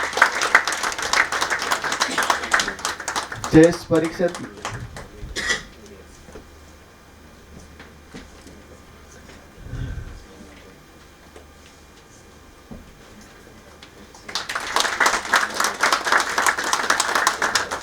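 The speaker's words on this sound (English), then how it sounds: "I request audience to please have a huge round of applause for the same." Audience applause at a conference felicitation for a speaker, loud broadband clapping at the start and again near the end, with a spoken announcement and quieter murmuring in between.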